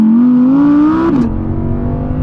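Rear-wheel-drive Audi R8 engine revving hard toward 8,500 RPM, a rising high-pitched wail that peaks and drops sharply as it shifts, then continues at a lower steady tone, loud and close.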